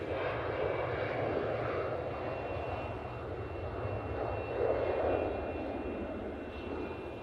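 An easyJet airliner at Manchester Airport gives a sustained, broad engine roar, heard from the distance and holding steady with a slight swell partway through.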